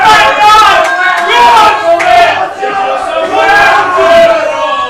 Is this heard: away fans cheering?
yes